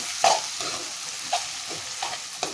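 Onions and tomatoes being stirred in a frying pan, a spoon scraping the pan in several separate strokes over a steady low sizzle, close and fairly quiet with no talking.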